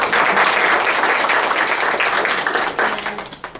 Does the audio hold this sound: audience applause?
yes